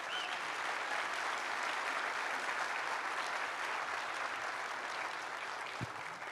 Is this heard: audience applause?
yes